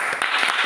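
Brief applause for students in a classroom, a quick burst of clapping lasting under a second, close and steady with no voices over it.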